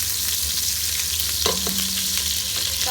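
Butter melts in a pan for butter chicken gravy while being stirred, giving a continuous close sizzle with a few scraping strokes. A faint tone sounds in the background, and no one talks.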